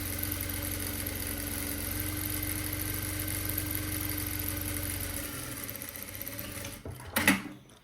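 A sewing machine stitches fabric for a pillowcase with a close, steady rapid whirring hum, which stops partway through, leaving a few handling clicks and a brief louder clatter near the end.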